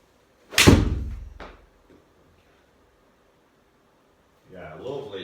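A Ping i200 golf iron strikes a golf ball with a single sharp, loud click-thwack close by, followed by a brief fading whoosh and quiet, then a voice begins talking.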